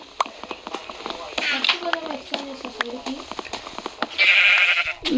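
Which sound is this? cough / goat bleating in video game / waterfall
goat bleating in video game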